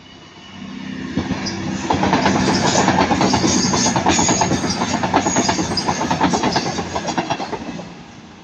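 A CrossCountry train running from Manchester Piccadilly to Bristol Temple Meads passes close by at speed, its wheels beating a rapid, loud clickety-clack that swells after a couple of seconds and holds steady until the end.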